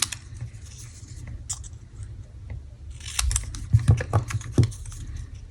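Scissors snipping cardstock for a Stampin' Up! paper pumpkin craft, with a run of close, crisp cuts and rustling paper toward the end after a quieter stretch of handling.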